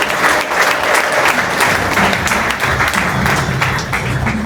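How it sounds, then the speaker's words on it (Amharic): A church congregation bursts into sustained, loud applause during a prophetic worship service, a dense wash of many hands clapping steadily throughout with no break. "አጨብጭቡ ለእግዚአብሔር።"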